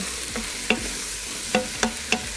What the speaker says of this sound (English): we're just gonna add the mushrooms and onions just right back in. And then just mix together for a little bit.